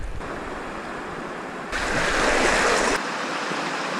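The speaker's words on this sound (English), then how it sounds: "Now I've got to cross that stinking river" A New Zealand river rushes steadily nearby with a broad, hissing roar that surges louder for a second or so, mixed with wind buffeting the microphone.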